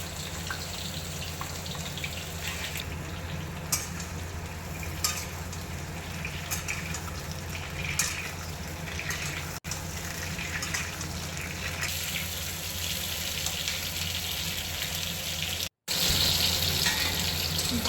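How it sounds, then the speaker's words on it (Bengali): Potatoes for aloo dum fry in hot oil, giving a continuous, close sizzling hiss that stays steady and fairly loud throughout, briefly cutting out near the end. "তেলটি গরম হয়ে আসার পর ওর মধ্যে আমি যে আলুর দমে আলু ইউজ করব সেই আলু একে একে করে ওর মধ্যে দিয়ে দিলাম এবং সেটি লাল লাল করে ভেজে নিলাম"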